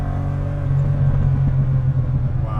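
A BMW E30 M3 engine revs hard at high RPM, a loud, close, steady mechanical roar with a rising harmonic whine as it spins through the top of the rev range, no talking.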